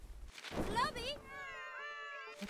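A cat in the Gravity Rush video game meows once, a drawn-out, rising-and-falling call heard close and fairly clear, followed by a faint short sound at the end.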